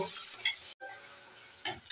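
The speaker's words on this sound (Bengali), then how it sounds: "একটু নেড়ে চেড়ে 1 মিনিট চিংড়ি মাছগুলোকে ভেজে নেব" Prawns frying with turmeric in a hot pan are stirred, giving a close, quick scrape and clatter over a soft sizzle, with a brief pause before another scrape at the end.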